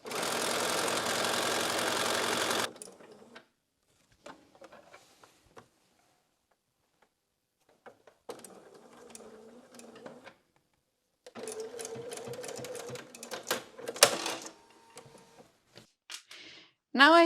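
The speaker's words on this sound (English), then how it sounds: "Now I have stitched all around" A sewing machine hums steadily for a couple of seconds while stitching quilt binding, then falls quiet amid scattered handling clicks and rustles, with a later burst of fabric movement and a short final whir.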